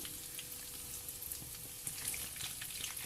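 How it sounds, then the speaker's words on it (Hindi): Potato donuts frying in a pan of hot oil, a steady close sizzle with scattered small pops and crackles running throughout, with no talking. "गोल्डन से क्रिस्पी होने तक हम इनको फ्राई करते हैं"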